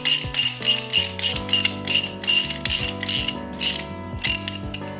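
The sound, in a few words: ratchet running nut down threads to clean them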